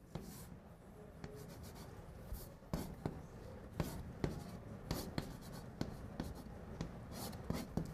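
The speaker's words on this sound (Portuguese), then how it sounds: "Agora eu vou escrever a expressão." Chalk scratches and taps across a classroom board as a mathematical expression is written, in a quick irregular rhythm of strokes and clicks, close and fairly quiet, with no talking.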